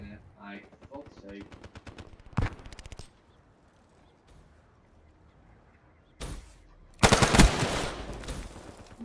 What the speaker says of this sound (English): How was you shooting me before I was shooting him?